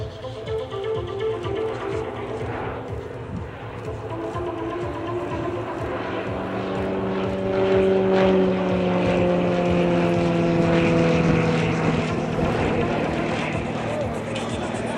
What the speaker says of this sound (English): the glider's being tugged around the air